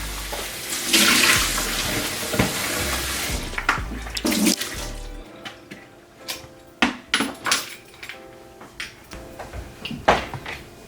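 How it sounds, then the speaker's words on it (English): Peeled potatoes rinsed under a running kitchen tap, with a broad rush of water at the start that gives way to lighter splashing and scattered knocks and clatter of the potatoes against a bowl or sink. "I'm just giving my potato a wash after peeling them"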